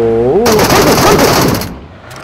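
Video game machine gun fire rips out in a loud, rapid burst lasting over a second after a short electronic tone, then cuts off abruptly.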